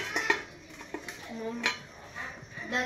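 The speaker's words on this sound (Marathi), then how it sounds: "आणि हे सर्व मिश्रण एकजीव करून घ्या" Vegetable Manchurian mixture being mixed by hand in a bowl, with scattered clinks and scrapes against the dish and soft intermittent handling noise, close and moderately quiet.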